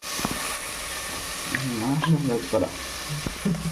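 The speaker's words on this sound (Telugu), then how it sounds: "ఉల్లిపాయ, టమాటా, క్యారెట్ వేసుకొని తిప్పుకోవాలి ఫుల్గా" Onion, tomato and carrot stirred while frying for a mushroom biryani, with a steady sizzling hiss and occasional spatula knocks close by and a voice talking over it.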